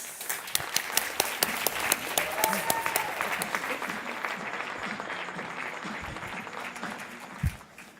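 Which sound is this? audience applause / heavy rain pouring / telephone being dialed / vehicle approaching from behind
audience applause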